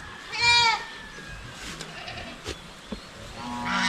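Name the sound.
goat bleating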